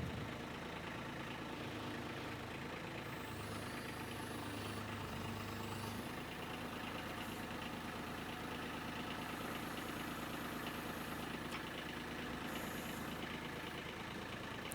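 Kubota tractor engine idling while backing up, a steady low diesel rumble that holds at an even level for about fifteen seconds, close by, with no talk over it.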